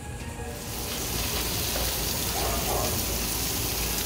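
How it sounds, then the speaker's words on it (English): Lumberjack sausage sizzling on a patio grill on Labor Day, a loud, continuous hiss and crackle that holds steady throughout with no talking. "So now he has sausage on the grill."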